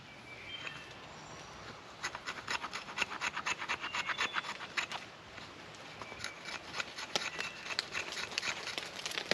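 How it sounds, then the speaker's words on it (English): A knife carves wood shavings for a campfire outdoors, producing a fast series of crisp, rhythmic scraping strokes up close, fairly quiet against a faint open-air background. "Make some shavings, put down in there."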